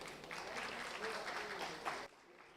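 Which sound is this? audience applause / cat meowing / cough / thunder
audience applause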